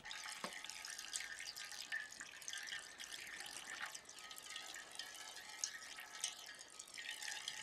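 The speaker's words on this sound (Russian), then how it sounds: "из лошади польется вода." Water flows and trickles from a scale model horse statue in a 1979 Soviet comedy film, a faint continuous splashing stream with small drips, quiet and steady throughout.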